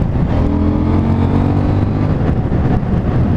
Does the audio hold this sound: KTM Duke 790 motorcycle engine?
yes